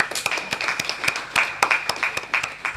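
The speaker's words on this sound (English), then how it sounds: "let's conclude with applause to everybody attending this panel" Applause from the audience closing a conference panel session at an annual satellite navigation conference, a short burst of clapping with distinct individual claps, fairly sparse and moderately loud in a hall.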